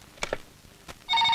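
A telephone in a Kannada film scene rings with a sustained electronic tone that starts near the end, preceded by a few brief knocks and clicks.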